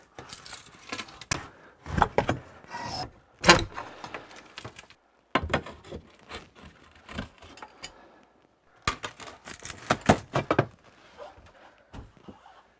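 Wooden strapping being pried and pulled off a basement wall during demolition, heard as bursts of cracking, scraping and clattering wood separated by quiet pauses, close and fairly loud.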